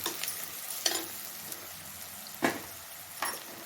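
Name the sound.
sautéing broad beans and vegetables in oil with asafoetida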